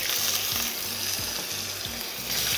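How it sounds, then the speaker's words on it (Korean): Steak sizzles steadily in bacon fat in a pan, a dense continuous frying hiss with soft crackles throughout, close and unbroken, with no talking. "베이컨 기름에다가 굽게 되는 건 참 좋다."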